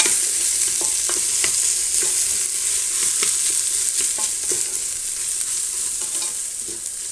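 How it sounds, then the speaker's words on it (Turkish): A spoon scrapes and stirs lentils in a pot with scattered clacks over a steady sizzling hiss, close and moderately loud. "Şöyle karıştıralım."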